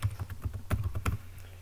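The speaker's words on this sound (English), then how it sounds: "And then you type in transfer" Typing a command on a computer keyboard while transferring Active Directory roles: a quick, uneven run of close key clicks with several louder strokes, steady and unaccompanied by speech.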